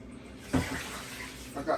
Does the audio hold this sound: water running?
yes